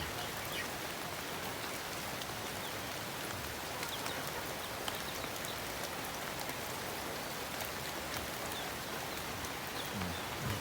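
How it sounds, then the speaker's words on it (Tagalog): Steady rain falls and patters on surfaces at a farm with pigs, a dense even hiss that persists throughout with no voices, with a few faint bird calls. "dahil maulan nga"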